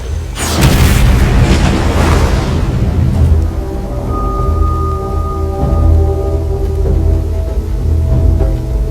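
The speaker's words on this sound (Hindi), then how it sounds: "लेकिन ब्लास्ट का धमाका बहुत तेज होगा" A movie bomb blast, set off with C4, erupts as a huge, loud boom with a rumbling roar, then a long, heavy low rumble decays under faint ringing tones.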